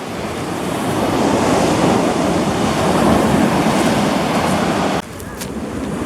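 Ocean surf rolls onto a California beach in a loud, close, steady roar with wind buffeting the microphone, cut by a sudden drop near the end.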